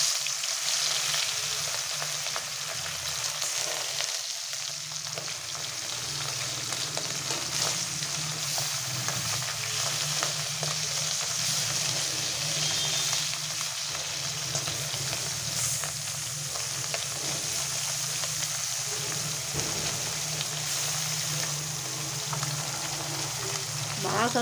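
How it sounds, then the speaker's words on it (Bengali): Small puti fish frying in hot oil in a wok (kadai), giving a steady, close sizzle that runs unbroken throughout with no notable pauses. "মাছ আমি ভালো করে ভেজে নেব।"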